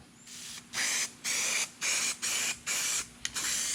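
Cold galvanizing spray paint is applied to welded bare metal on a 1968 Nova quarter panel repair, in about six short, close hissing bursts separated by brief pauses.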